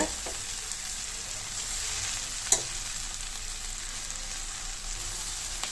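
Drumstick leaves sauté over a low flame in a pan, giving a soft, continuous sizzle with a faint stir and a single small clack partway through, quiet and without talk.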